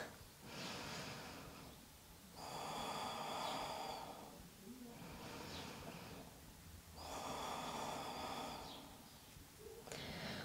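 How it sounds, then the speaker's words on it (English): Slow, deep yoga breathing during a stretch in an advanced vinyasa flow class: two long, airy inhale-exhale cycles, each swelling loud and close, then easing off between breaths, with no talking. "Settling in here for some really, really big, deep breaths."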